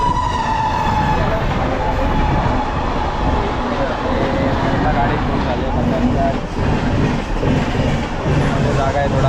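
Inside a crowded passenger train departing Diva for the Konkan, the carriage gives off a loud, continuous rumble and rattle that stays dense and unbroken throughout.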